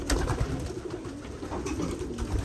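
Racing pigeons cooing softly in a steady murmur, several birds close together with a faint flutter of movement and no talking.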